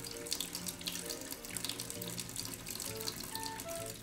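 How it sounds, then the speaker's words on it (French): Steady running water from a shower, a continuous close hiss of spray and splashing that lasts throughout with no talk over it. "Ah, enfin sous la douche."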